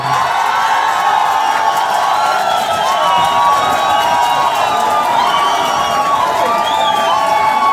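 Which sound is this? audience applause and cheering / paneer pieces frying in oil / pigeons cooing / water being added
audience applause and cheering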